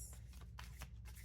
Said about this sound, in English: Feel free to fast forward through the shuffling